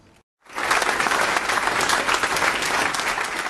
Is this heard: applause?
yes